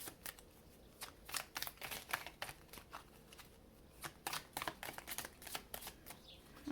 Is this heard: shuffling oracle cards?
yes